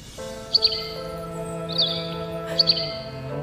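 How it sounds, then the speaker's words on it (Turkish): A white swallow gives a few bright, high chirps in small clusters over a sustained musical backdrop, clear and fairly close. "Ak kırlangıç geldi anne."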